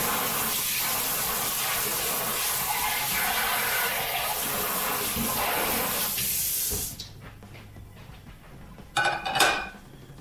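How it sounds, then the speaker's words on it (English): Bologna slices sizzling in butter and oil in a pan on a kitchen stove over medium heat, a steady broadband frying hiss that drops away partway through, leaving quieter kitchen clatter and a brief burst near the end. "I definitely hear the sizzle"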